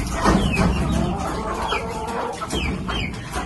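Chickens clucking and cheeping nearby on a farm, feeding after pheasants, a busy overlapping flock with repeated short calls.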